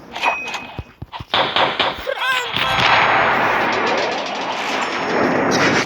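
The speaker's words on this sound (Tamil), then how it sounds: "இந்த ஃபயர் பால் கொஞ்சம் நல்லா இல்லை." Fireball firework going off outdoors, with sharp cracking bangs early on, then a whistling rise and a loud, sustained crackling roar that fills the rest of the clip.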